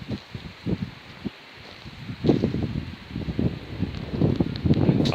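Wind gusting through oak trees makes the leaves rustle, a close, uneven rush that builds in surges and carries low buffeting from wind against the microphone.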